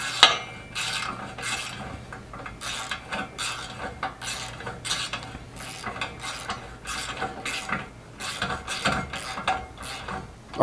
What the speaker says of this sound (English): we're going to grab this other bolt over here and tighten that up